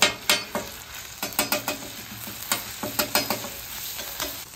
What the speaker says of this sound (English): I'm gonna add that fermented bean paste right to the griddle.